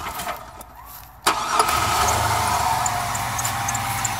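A 2000 Chevrolet S10 Blazer cranks cold with a brief starter whir, catches with a sharp burst, then settles into a steady close-up idle.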